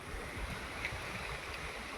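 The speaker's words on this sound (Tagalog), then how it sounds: "At mahangin dito sa lugar na to." Faint, steady wind rushes softly in the background at a rocky spot by water among forested mountains, a low even hiss and rumble with no other clear sounds.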